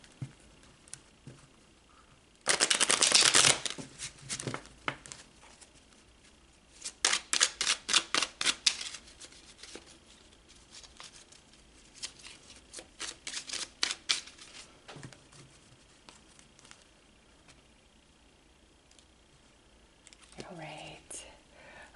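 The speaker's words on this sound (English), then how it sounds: "I feel I need to shuffle one more time" Tarot cards are shuffled in quick riffling bursts, close and crisp, with soft handling noises and faint whispery breaths between.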